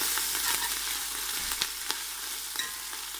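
Ginger garlic paste frying in hot oil for beef pulao, giving a steady bright sizzle with occasional sharp pops and spatters, close and even throughout without any talking.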